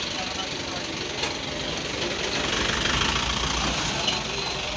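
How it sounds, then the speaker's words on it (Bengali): A used Honda Hornet motorcycle in fresh condition idles steadily with a continuous mid-pitched engine rumble, close and fairly loud throughout with no talk over it. "একবার ফ্রেশ কন্ডিশনের হন্ডা হর্নেট"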